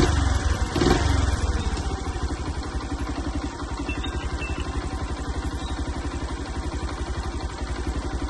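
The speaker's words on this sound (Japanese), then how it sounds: "エンジンの方もかけさせていただきます。" A Honda Little Cub motorcycle engine fires up with a brief burst of cranking, then settles into a steady, close, rapid idle putter that continues evenly with no talking.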